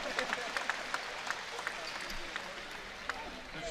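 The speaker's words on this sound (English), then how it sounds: "a round of applause happening here at the Jenny Craig Pavilion" A crowd applauds at a high school basketball game in the Jenny Craig Pavilion, steady clapping with sharper individual claps standing out, heard at some distance.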